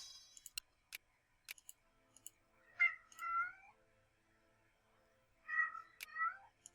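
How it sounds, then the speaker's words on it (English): A cat meows twice, short drawn-out calls spaced a few seconds apart, heard close and fairly quiet over near silence with a few sharp clicks. "Shut up, cat."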